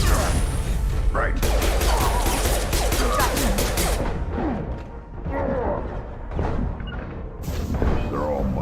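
Rapid, dense gunfire bursts in the Mass Effect 2 video game, loud and near, mixed with booms and mechanical clatter while voices talk over the combat.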